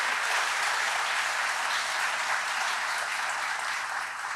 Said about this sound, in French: je pense qu'on peut leur donner aussi une belle main d'applaudissements